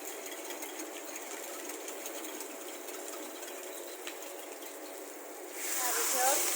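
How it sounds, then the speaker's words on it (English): A whisk beats a Chinese dish mixture with corn flour in a bowl, making a fast, steady rattling clatter that runs throughout and swells into a louder hiss near the end. "Whisk."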